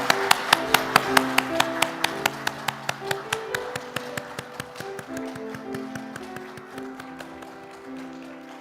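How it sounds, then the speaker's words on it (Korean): A church congregation claps in a steady, even rhythm to keyboard music during a Sunday service, the sharp claps fairly loud at first and fading gradually toward the end. "하나님께 영광의 박수 올려드리겠습니다"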